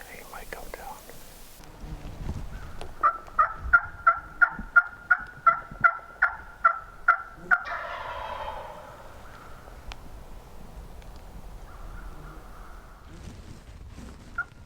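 A wild turkey longbeard gobbles from a ridge on New York public land, a steady run of about a dozen evenly spaced, loud rattling gobbles, then a longer burst followed by quieter outdoor ambience with faint whispering.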